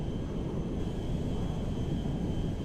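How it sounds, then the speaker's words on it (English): A steady, loud jet roar from the Air Force One airplane flying in GTA 5, a constant even rush with no breaks and no voices. "How cool is that? Air Force One in GTA 5."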